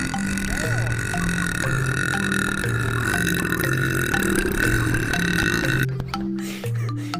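A burp battle with a monkey: a long, loud, drawn-out belch that holds steady for several seconds, then cuts off and gives way to shorter grunting burps near the end.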